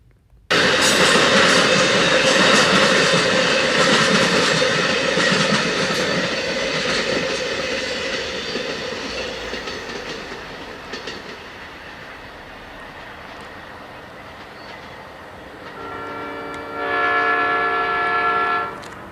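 CN freight train locomotives roll past loudly with rumbling and clattering wagons, then a multi-tone horn blasts clearly near the end as the train noise fades.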